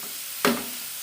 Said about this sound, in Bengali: এক চামচ আদা রসুন বাটা দিয়ে ভালো করে কষিয়ে নেব